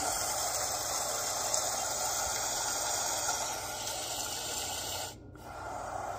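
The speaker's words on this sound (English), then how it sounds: "This is heavy rain." Heavy rain setting on a Babelio white noise machine: a continuous, steady broadband hiss with no rhythm, cut by a brief dropout near the end before resuming.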